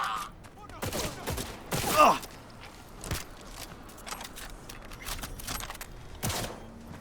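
Gunfire in Cyberpunk 2077 rings out as scattered sharp shots and short bursts, loudest near the two-second mark, over a busy game soundscape with clicks and faint footsteps.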